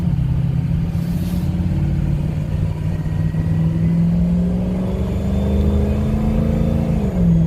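A 2007 Ford F-250 Lariat 4WD pickup with a 6.0L Powerstroke diesel at 164K miles accelerating, its steady low engine drone rising in pitch as the turbo spools with a faint whine, loud and continuous.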